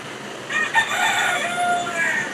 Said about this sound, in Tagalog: Ayan, may manok na naman.